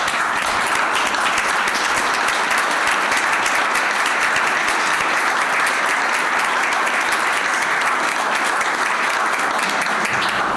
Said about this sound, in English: if you could all stand and give him a round of applause